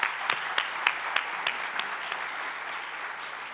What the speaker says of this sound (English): let's do a big round of applause to all the organizing team who put this event on